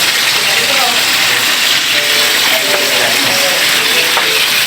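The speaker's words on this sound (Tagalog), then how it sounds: "nagpiprito ng ating tilapia" Tilapia sizzles and spits in hot oil in a pan, a dense steady frying hiss with small crackles throughout.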